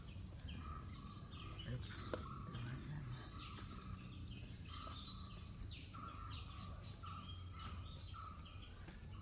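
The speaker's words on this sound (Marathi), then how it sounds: "पक्ष्यांचा आवाज तुम्हाला येत असेल ह्या बाजूला." Birds chirping and calling around a heritage resort in Savantwadi, faint and distant, with scattered short tweets over a soft continuous hum of insects.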